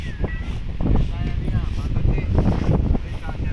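Gusty storm wind buffets and roars in low rumbling bursts over a haor wetland after dark, close and loud, with people talking faintly beneath it.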